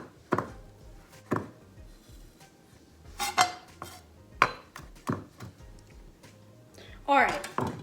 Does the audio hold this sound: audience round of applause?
no